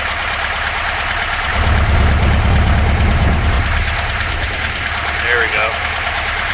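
A 1966 Porsche 912 engine with Solex carburetors idles steadily at close range, its low rumble swelling slightly as the throttle is nudged up, while someone talks over it.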